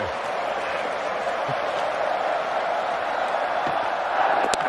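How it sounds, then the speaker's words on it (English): Crowd noise at a Test cricket match, a steady broad roar of many spectators filling the ground throughout, swelling slightly near the end, with no clear speech over it. "Listen to the crowd."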